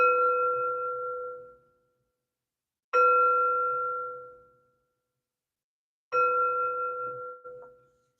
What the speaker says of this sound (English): Do a quick adjustment and 3 chimes to bring in positive energy.